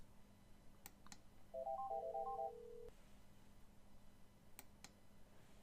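On an NEC SV8100/SV9100 softphone, a call is placed to an Outlook contact: a few faint clicks, then a quick run of dialing tones, then a short steady tone before quiet, all soft and without speech.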